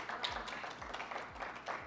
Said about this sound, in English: Let's go ahead and give them all a round of applause once again.